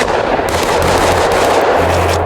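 Gunfire in a video game: a loud, dense burst of rapid shots running continuously for a couple of seconds.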